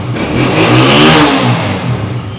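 A Honda CG125 motorcycle engine revs up close, its mid-pitched rumble swelling to a loud peak and easing back down in one smooth throttle blip, with no speech over it.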